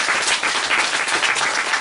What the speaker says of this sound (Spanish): dale un fuerte aplauso al Padre en el nombre de Jesucristo